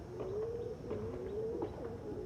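Red and black Chini breed pigeons coo softly and steadily, with repeated low, rolling calls over a faint background hum. There is no talk.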